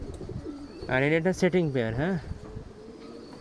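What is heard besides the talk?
pigeon cooing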